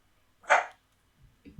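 A single dog bark in the 2004 video game Starship Troopers: Hero of the Federation, one short bright yip-like bark standing alone, followed by faint low rumbles.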